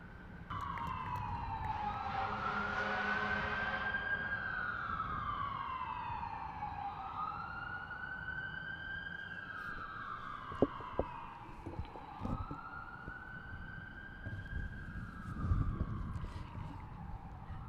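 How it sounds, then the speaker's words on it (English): Emergency vehicle sirens near the Ohio State House, a loud wailing siren sweeping up and down repeatedly over city traffic noise, with a few sharp knocks partway through. "there's always so much sirens in the background"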